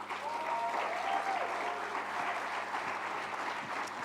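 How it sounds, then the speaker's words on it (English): Audience applause after a keynote address at an awards ceremony, a steady wash of many hands clapping at moderate volume that holds evenly for the whole stretch, with faint tonal hum beneath and no talking on top. "Another round of applause, ladies and gentlemen."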